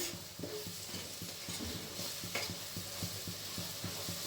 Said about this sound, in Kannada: ಇವಾಗ ಸ್ವಲ್ಪ ಫ್ರೈ ಆಗೋದಕ್ಕೆ ಮಾಡ್ಕೊಳ್ಬೇಕು.